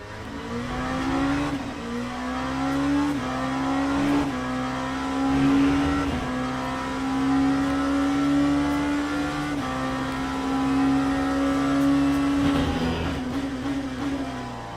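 Race car engine in Le Mans Ultimate at Silverstone, droning steadily in a low gear with small rises and dips in pitch, close and continuous with no talk over it.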